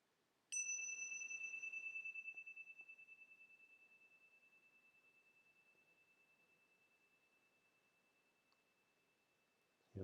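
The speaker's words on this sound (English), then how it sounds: "You're noticing the sound of the bell moving through time." A meditation bell struck once, ringing out a clear sustained tone that decays slowly over about nine seconds in a quiet room, with no voices.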